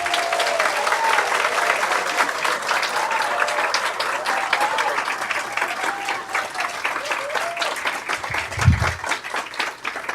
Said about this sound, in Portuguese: uma salva de palmas para nós mesmos.